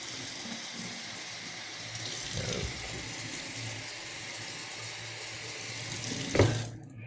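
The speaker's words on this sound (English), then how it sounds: "when I fill this with water, you'll see water is going to come out of those holes." Water pours into a Coke bottle with holes punched in it, a steady even hiss of filling and leaking with a faint clunk near the end before it cuts off.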